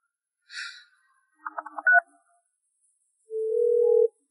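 A phone call goes unanswered: a few short electronic tones and beeps, then a steady ringback-style tone near the end, clear and isolated with no talking.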